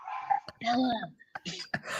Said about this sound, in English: I'm glad that my dog is barking